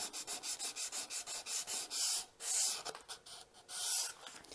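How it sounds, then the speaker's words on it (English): Hand sanding of a wooden Double Roman ogee moulding profile made with a hollows-and-rounds plane: rapid rhythmic back-and-forth rasping strokes, close and steady, with the strokes lengthening into longer, louder sweeps toward the end. "Just a quick sand to kind of even everything out a little bit."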